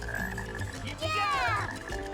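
Black frogs croak in a Sonic Heroes rainforest stage, a run of rising and falling croaks over busy game music and ambience, loudest in the middle.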